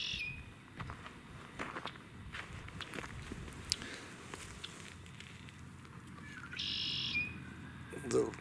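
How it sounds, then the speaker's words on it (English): Faint birds chirp and tweet outdoors over soft ambient noise, with scattered footsteps nearby. "birds are starting to come back."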